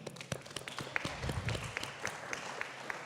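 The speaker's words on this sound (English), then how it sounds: "So again, give yourselves a round of applause." A moderately sized audience applauds, a rapid crackle of many hands clapping at a fairly quiet, distant level.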